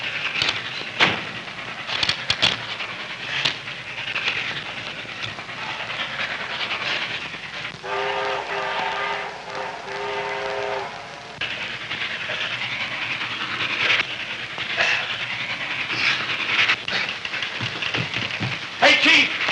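A train rumbles and hisses steadily with rattling clatter, and a tonal horn sounds for a few seconds midway before the noise carries on.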